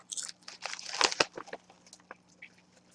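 Crisp crunching from chewing cilantro-lime kale chips, loud at first and then tapering into softer bites, close up and with no talking.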